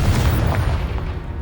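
A Confringo explosive spell blast in the video game Hogwarts Legacy, heard as a loud, deep boom that rumbles through a brief moment.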